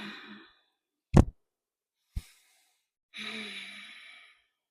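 A deep, slow exhale during a slow power yoga flow, a soft breathy sigh near the microphone, heard at the start and again as a longer release after two brief thuds.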